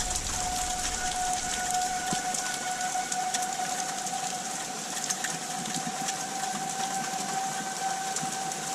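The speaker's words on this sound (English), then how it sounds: "still got a few gusts coming through, but now it's the torrential rains." Heavy, torrential rain from a tornado-warned storm pours down in a steady roar, with a faint constant tone droning underneath throughout.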